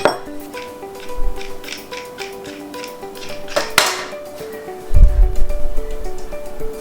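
A wrench loosens the lock nut on a bicycle hub axle while an Allen key holds the axle: a few light metallic clinks and one sharp click, close and fairly quiet, over a steady background of soft music.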